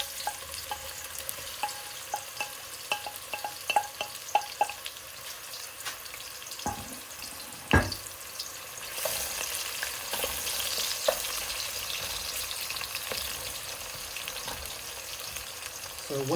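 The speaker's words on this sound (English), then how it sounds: "I've heated up the oil and the ghee, and I'm adding 1 sliced onion." Sliced onion frying in heated oil and ghee for a chicken pilaf, a steady close sizzle with scattered stirring clicks and one sharp knock, growing denser and louder in the second half, no talking.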